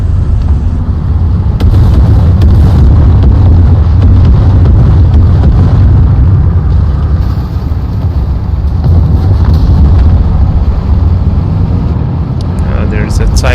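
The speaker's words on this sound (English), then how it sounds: "I hear engines." Tank engines in the War Thunder game, low tier ground battles, rumble as a loud, continuous deep drone with clanking tracks throughout, steady and close, with gunfire-like bursts mixed in.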